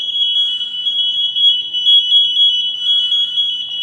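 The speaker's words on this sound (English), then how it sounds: "we have alarms on our packs that let us know if somebody's hurt or can't move." A firefighter's PASS alarm on a breathing-apparatus pack sounds a loud, steady, piercing high electronic tone that pulses slightly and holds for the whole stretch, alone and close.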